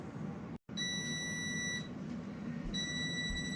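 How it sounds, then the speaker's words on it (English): An oven timer beeps with a steady, high electronic tone that sounds in two long stretches separated by a short gap, fairly loud against quiet kitchen background. "the oven has rung"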